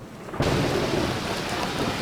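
A sudden loud crack of thunder breaks in over steady heavy rain during a thunderstorm in Oslo, with no voices.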